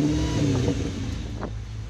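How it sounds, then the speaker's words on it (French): A combustion car with an eight-cylinder engine revs in a steady, rumbling burst, its deep throb holding throughout with a brief rise in pitch near the middle. "Ce son, c'est la mélodie d'un 8 cylindres."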